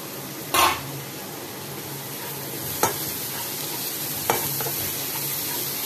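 Pomfret fish masala being stirred and sautéed in oil in a pan, a steady close sizzle with a few sharp scrapes of the spoon, no talking.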